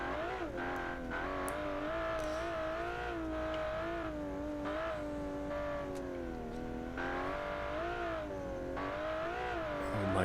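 All-wheel-drive turbocharged Class 7 Baja race car accelerating, its engine note a loud, sustained high-pitched whine and roar that rises and wavers through gear changes, heard up close from inside with no talking.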